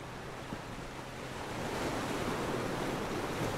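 Ocean surf washing onto Bavaro Beach in Punta Cana, a steady broadband wash of waves that swells slightly louder midway, with some wind noise and no voices.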